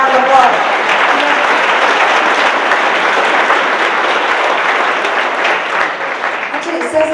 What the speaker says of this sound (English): give Cesar a round of applause